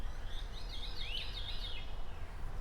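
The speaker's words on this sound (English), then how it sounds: "Is it a veery?" A veery, a thrush, sings its descending, fluty, spiralling trill once at moderate distance, over a steady low background rumble.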